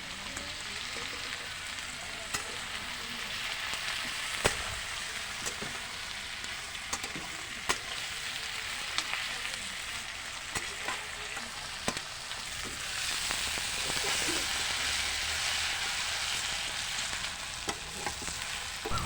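Garlic paste frying in oil for a Bengali doi chicken curry, giving a continuous close sizzle with occasional spoon clicks, and the hiss swells louder toward the end.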